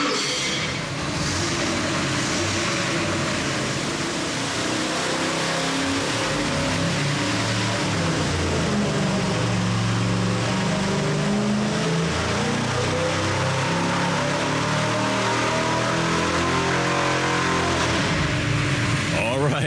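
A 1969 Oldsmobile Cutlass 455 V8 with Pertronix ignition roars on a dyno, its engine note sweeping up through the gears in a long, loud, sustained pull that dominates throughout.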